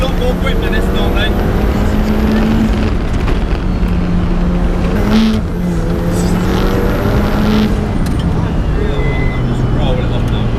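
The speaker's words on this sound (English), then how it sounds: "I have just been out in the Ferrari 488 Challenge Evo" A Ferrari 488 Challenge Evo race car lapping Anglesey circuit on worn tyres, its engine roaring loudly and continuously at close range with shifting pitch and brief dips around gear changes, and no talk.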